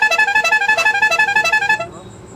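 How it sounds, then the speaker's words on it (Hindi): A powerful air horn fitted on an auto rickshaw blasts in a rapid pulsing pattern of about twenty short, loud, harmonic honks, then cuts off and leaves a faint high tone. "तो देख सकते हैं हॉर्न जो है वो बजने लगा,"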